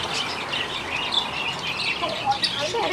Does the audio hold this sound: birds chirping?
yes